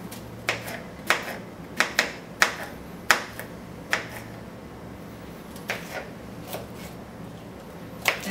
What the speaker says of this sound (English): take the zucchini and chop it up into pieces